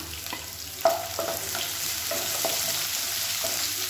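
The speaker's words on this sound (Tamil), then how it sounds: "இப்போ வெங்காயம் ஓரளவுக்கு நல்லா வதங்கிடுச்சு" Onions sauté in a pan with a steady sizzle and a few clinks of a spoon stirring, close and continuous.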